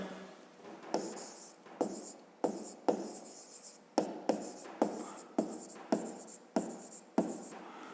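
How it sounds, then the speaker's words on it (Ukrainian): A pen writes out a math solution by hand on paper, giving a quiet, close series of scratchy strokes in short rhythmic bursts, one after another, with no talking. "Ну а тепер записуємо розв'язання."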